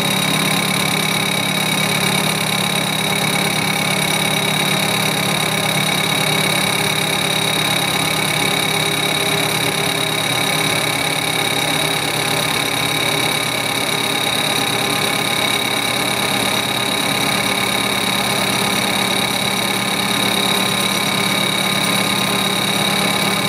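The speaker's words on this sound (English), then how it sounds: "So it's ringing because it's an interrupted cut" A metal-cutting tool rings on an interrupted cut, making a loud, steady, sustained tone. Dense machine drone runs unbroken underneath throughout.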